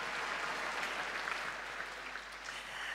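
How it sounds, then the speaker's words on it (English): Faint, distant applause from an audience at a tennis awards evening, the Newcombe Medal, a steady wash of many clapping hands continuing throughout without speech. "Another round of applause for Bailey, everybody."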